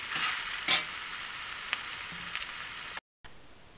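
Ground beef browning in a hot pan, a steady dense sizzle with occasional stirring scrapes, close and fairly loud, with a brief dropout near the end.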